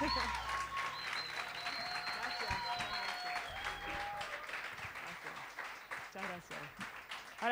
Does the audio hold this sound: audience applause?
yes